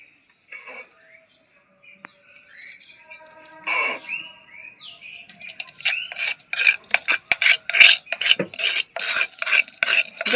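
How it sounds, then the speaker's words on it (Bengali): Sour yogurt is mixed by hand in a clay pot, producing rapid, rhythmic scraping and rubbing strokes that start sparse and grow into a close, busy series of rasps toward the end. "আমি এই মাটির হাঁড়িতে এখন টক দইটা মিশিয়ে নিচ্ছি।"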